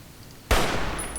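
Silence broken by a single sharp, loud gunshot in the video game Fallout: New Vegas, ringing out with a lingering reverberant tail and a thin high ringing tone afterward.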